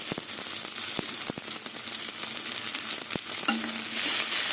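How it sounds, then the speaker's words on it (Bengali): Green chillies and tomatoes fry in a pan with onion paste for a small-fish curry, giving a steady oily sizzle broken by sharp clicks and scrapes of stirring, with a louder hiss near the end. "এবার টমেটো দিয়ে সব কিছু দিয়ে আবার একটু ভেজে ভেজে নেব"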